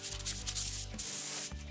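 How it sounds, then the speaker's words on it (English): A sanding block rubs smoothly over white-primed wardrobe cabinet doors in steady back-and-forth strokes, close and continuous, with a brief pause before the rubbing resumes. "then let it dry for some minutes and continue with a smooth sanding."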